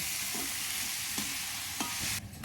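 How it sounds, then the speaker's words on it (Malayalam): Onions sauté in a pan for chicken curry with a steady, dense sizzle that stays close and even, broken by a couple of faint stirring scrapes before it drops away at the end. "ആ സമയം കൊണ്ട് നമ്മൾ ഉള്ളി വഴറ്റിയെടുക്കുകയാണ് ചിക്കൻ കറി ഉണ്ടാക്കാൻ"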